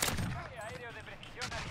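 Gunfire in the Warzone video game, a few sharp bursts of shots mixed with game sounds and a voice talking over them.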